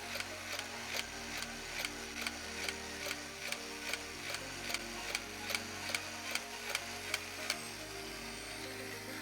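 A 1995 full-auto flywheel foam disc shooter fires foam discs in a quick, even series of sharp clicks, roughly a dozen shots, over a low mechanical whir, close and fairly quiet with no talking.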